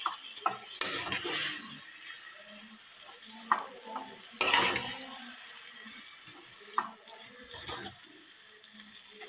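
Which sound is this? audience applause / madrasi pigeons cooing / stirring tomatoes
stirring tomatoes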